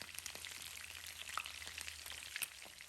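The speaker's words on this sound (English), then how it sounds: "let them sort of dry so that when you're frying, it doesn't splash around" Pieces of goat meat fry in a pot for a stew, a close, steady crackling sizzle with scattered pops and spits.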